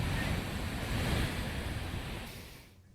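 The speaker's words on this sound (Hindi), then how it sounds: "और पानी का शोर भी सुन सकते हैं आप, गूंज रहा है हर तरफ।" Loud, steady roar of a rushing river during heavy rain, echoing all around, broad and constant, fading slightly toward the end.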